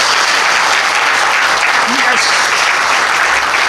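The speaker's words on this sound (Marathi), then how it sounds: "मग टाळ्या वाजवाल का?" A congregation at a Marathi church sermon claps loudly and continuously, a dense close wash of hands with a few voices calling out over it.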